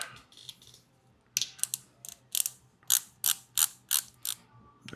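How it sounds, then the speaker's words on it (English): Torque wrench set to 115 ratcheting as bolts are tightened on a 2024 Harley-Davidson Road Glide during a Stage 2 upgrade with ThunderMax install: quick bursts of sharp clicks, then a steady run of loud, evenly spaced clicks, close up. "let me go get the magic torque wrench and let's set this bad boy"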